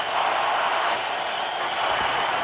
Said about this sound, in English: Crowd is alive here